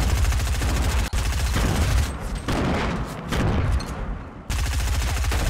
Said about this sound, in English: Oh, who's throwing grenades at me?